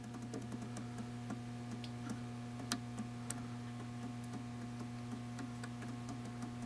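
A Generac generator's governor ticks faintly and irregularly over a steady low electrical hum, with soft scattered clicks and a couple of sharper ones heard from close by.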